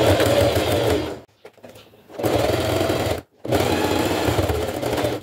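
Sewing machine stitching a fabric toiletry bag: loud, steady mechanical whirring in three bursts with short pauses between, close by, with no talking.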